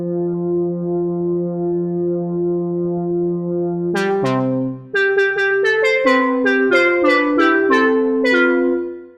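An Elektron Digitone plays saw and square-like poly synth tones: a sustained held chord, then a run of bright, plucky notes in quick rhythmic succession, loud and clean with no voices.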